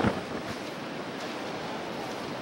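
Strong wind on a beach rushes and buffets the microphone in a constant roar, with no voices.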